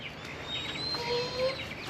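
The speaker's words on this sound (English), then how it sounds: "And there's our neighbor's chickens and roosters." Chickens and roosters cluck and call in the distance from a neighboring yard over a steady outdoor background, with a few brief higher calls rising above the murmur.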